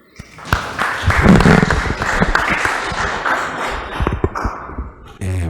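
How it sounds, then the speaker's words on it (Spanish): A conference audience claps steadily for several seconds, a warm, sustained patter of applause with a few louder claps, ending with a thud. "Lo vamos a recibir con un fuerte aplauso."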